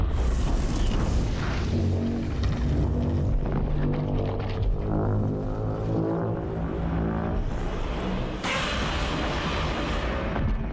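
Godzilla's radioactive pulse explosion from a monster film, a loud continuous rumbling boom with a deep low roar and rising noisy bursts, swelling into a bright blast near the end, no speech.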